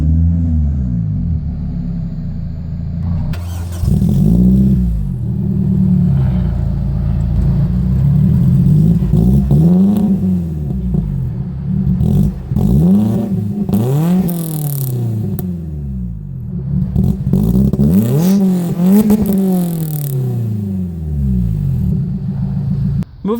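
A 2014 Lotus Elise S Cup R engine fires up after a few seconds of quiet, then revs hard several times in rising and falling sweeps, loud and close.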